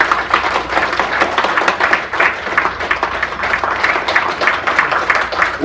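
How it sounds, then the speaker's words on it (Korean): An audience at a forum in New York applauds Korean War veterans, sustained dense clapping with individual claps audible throughout and no talk over it. "박수를 보내주시기 바랍니다"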